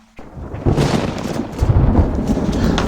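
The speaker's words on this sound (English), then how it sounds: "Rolling thunder." Rolling thunder breaks out over the desert after a moment of quiet, a sudden loud rumble that swells and keeps growling low and heavy without fading, with no one talking.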